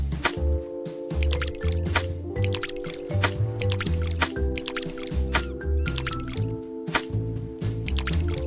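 A cleaning game plays a washing effect of dripping and squishing liquid sounds, with wet splashes and bubbly gurgles. Bright chiming game tones and a looping music bed run steadily underneath.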